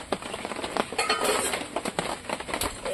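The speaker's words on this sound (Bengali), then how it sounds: "এবার ঢাকাটা খুলে নেবো।" Metal clinks and scrapes as a lid comes off a cooking pot of shapla (water lily stems) with prawns, a few sharp close taps and rattles over a quiet kitchen background.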